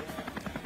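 A helicopter flying over a mountain bike stage race through forest in Israel, its rotor giving a steady rhythmic chop at moderate distance, faint and brief.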